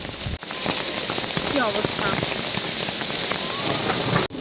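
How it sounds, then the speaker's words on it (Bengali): Heavy rain mixed with hail pours down outdoors in England during a Rath Yatra procession, a dense, constant hiss of falling drops, with a voice speaking briefly over it. "একেবারে ঝমঝম করে শিলা বৃষ্টি"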